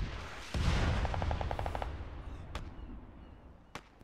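Gunfire in ArmA 3: a sharp shot followed by a rapid automatic burst of about a dozen rounds, then a few more isolated distant shots fading over a rumbling battlefield background.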